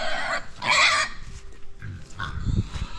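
A pig on a farm near Tauranga, New Zealand, gives short grunts and oinks up close, with a burst of noisy rustling or squealing early on.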